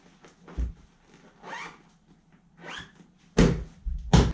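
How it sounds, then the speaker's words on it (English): Zipper on a fabric pillar cover of a pillar builders kit being zipped up in a few quick, rasping pulls with short pauses, close by and moderately loud, the last strokes sharpest. "we just zip it up."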